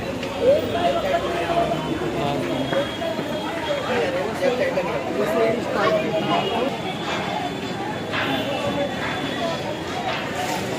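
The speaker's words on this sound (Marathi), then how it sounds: "हे दादरचं मार्केट" Busy Dadar market in Mumbai: a dense, steady hubbub of crowd chatter and many overlapping voices, with occasional louder nearby calls and clatter running throughout.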